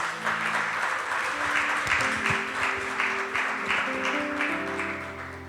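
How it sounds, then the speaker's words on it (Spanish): A church congregation claps for the Lord in sustained, even applause, fairly loud and close, with a sustained musical tone running underneath. "Denle un fuerte aplauso al Señor, por favor."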